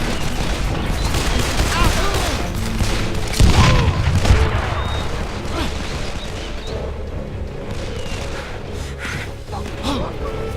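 Gunfire in the game Call of Juarez: The Cartel, bursts of shots and a heavy boom cracking over a busy mix, with voices talking through the firefight.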